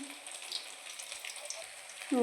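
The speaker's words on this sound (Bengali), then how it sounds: "কপ্তা ভাজা হচ্ছে" Fish kofta fries in hot oil with a steady close sizzle and crackle, and a voice briefly starts at the end.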